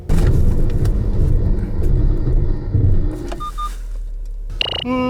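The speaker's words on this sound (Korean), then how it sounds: "이번에는 GLC 43 쿠페 제동 능력에 대해서도 한번 알아볼까요?" A 2017 Mercedes-AMG GLC 43 Coupe, on large wheels and tyres, runs hard through a braking test: loud road and engine rumble fades as the car slows, then a few short electronic beeps sound near the end.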